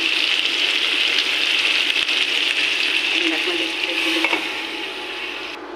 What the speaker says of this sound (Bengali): কষিয়ে নিচ্ছি মাংসটাকে আমি এখন ভালো করে একটু